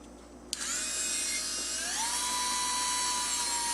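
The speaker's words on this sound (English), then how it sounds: "Dremel tool here" A Dremel rotary tool spins up with a sharp click into a high, whining buzz, its pitch rising and settling as it cuts plastic ukulele strap brackets, close and loud, with no talking.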